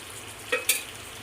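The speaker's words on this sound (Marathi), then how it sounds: "आपण आता ना बांगड्याचं कालवण फोडणीला देऊया" Two ladles of hot oil crackle for tempering mackerel curry, two quick sharp sizzle bursts close by in an otherwise quiet kitchen.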